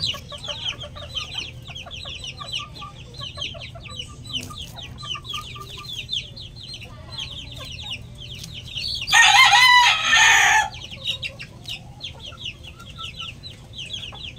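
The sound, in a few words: White Kelso gamefowl chickens, rooster crowing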